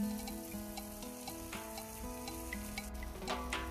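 Curry leaves fry in hot oil for a homemade fish hot pot, giving a soft, continuous sizzle with scattered small crackles and faint stirring scrapes heard up close.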